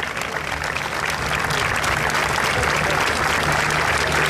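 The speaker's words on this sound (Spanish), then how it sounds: "señoras y señores, el aplauso para los componentes de la tradicional danza marinera de las espadas de Bayona" An outdoor crowd at a local tribute event claps for the performers of a traditional seafaring sword dance in Baiona, a loud, sustained wash of applause that swells and holds steady.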